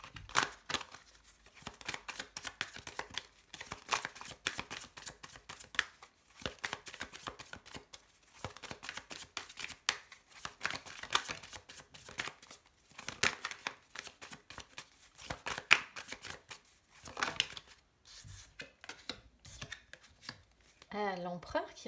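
A deck of tarot cards is shuffled over and over during a reading, producing a steady run of close, papery riffles and soft slaps in irregular bursts with brief pauses between them.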